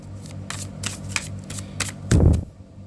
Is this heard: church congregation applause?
no